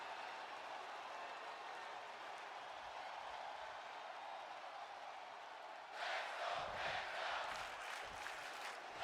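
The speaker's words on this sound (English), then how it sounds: "And you can hear the crowd in full support of Penta here tonight" An in-game arena crowd in WWE 2K26 Universe Mode keeps up a steady, moderately quiet roar, then swells into louder, rhythmic cheering for the final few seconds.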